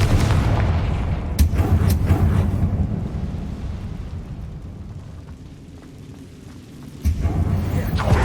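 A Confringo fire spell exploding in the video game Hogwarts Legacy, a heavy booming blast that swells and then rumbles down, followed by a second low thump near the end over game background sound.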